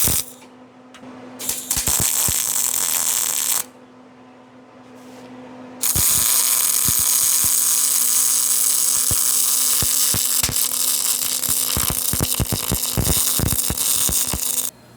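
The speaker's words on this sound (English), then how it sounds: "I need to finish welding this stuff up" Welding on metal distributor mount parts for an LS 5.3 engine: steady buzzing, crackling arc in bursts with pops and short pauses between beads, close and loud.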